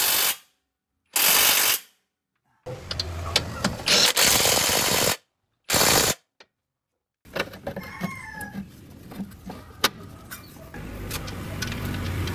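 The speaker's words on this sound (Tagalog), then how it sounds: "Dito naman sa paghigpit sa nut ng ball joint." Bursts of rapid mechanical clicking from a ratchet tightening a ball joint nut on a Mitsubishi Mirage, separated by short silences, followed by quieter clanks and metallic handling sounds.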